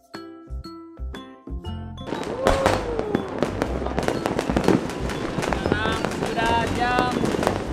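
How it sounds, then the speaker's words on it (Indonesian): Loud New Year fireworks and rockets in Manado: a rhythmic string of pops gives way to a dense barrage of crackling bursts and whistling rockets, with people talking and cheering in the background. "Terus ini ada kembang api."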